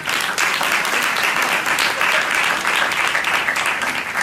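A church congregation claps loudly and continuously at a Hindi–Punjabi sermon service, a dense, steady wash of many hands that holds at full strength throughout with no pauses.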